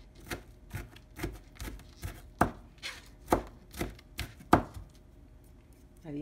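A knife chops food finely on a cutting board in about a dozen crisp, evenly spaced knocks, close and clear with no talking, for fish tacos with salsa bandera.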